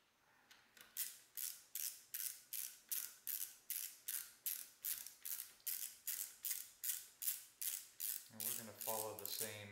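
A ratcheting driver snugs up screws on an FN SCAR rifle barrel, giving a steady run of about twenty rhythmic clicking pulls, close and clear, with a brief voice starting near the end.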